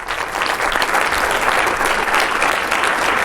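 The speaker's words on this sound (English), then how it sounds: "Let's give Baron Butler a round of applause for our MC tonight." Church audience applauds its MC, Baron Butler, in a dense, steady wash of clapping that holds level throughout with no voices standing out.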